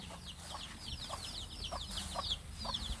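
Chicks peep in quick, repeated high chirps while hens cluck lower at intervals on a farm in Kapoe, Ranong, Thailand, close and steady over outdoor background noise.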